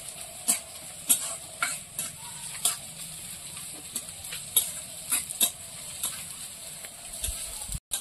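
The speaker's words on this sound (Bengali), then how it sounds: "পেঁয়াজটা ভাজা হয়ে গেছে" Onions fry in a pan with a steady low sizzle, punctuated by a string of light metallic scrapes and taps as they are stirred.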